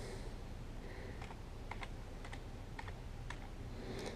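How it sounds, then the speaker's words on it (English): Keys click on a computer keyboard, a short run of light, quick taps close by over a soft steady background hum, with no voices. "Now right here I type in Hampton."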